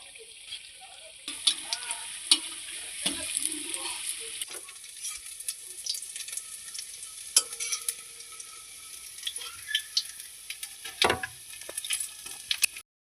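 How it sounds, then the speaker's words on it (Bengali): Eggplant fritters (beguni) frying in hot oil, a steady close sizzle with occasional clinks and scraping stirs throughout. "এখানে আমাদের বেগুনি ভাজা হচ্ছে।"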